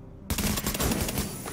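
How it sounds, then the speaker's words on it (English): Sustained automatic gunfire from The Division video game erupts suddenly and continues as a dense, loud rattle of rapid shots. "I want to shoot his thing so he would blow up."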